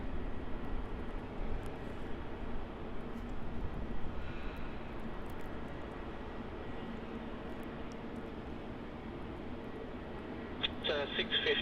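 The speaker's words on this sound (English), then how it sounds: "As this Fiji Airways 737 MAX comes in on runway 16" A Fiji Airways Boeing 737 MAX comes in to land on runway 16 at Melbourne Airport, its engines a steady distant roar that holds for the whole stretch, with faint radio chatter and voices over it.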